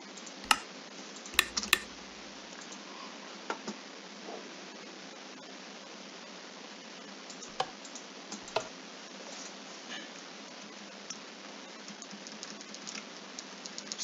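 Computer keyboard keys clicked while playing Minecraft: scattered, sharp individual keypresses, a few in quick succession, near and crisp over a faint steady hiss, with no talking.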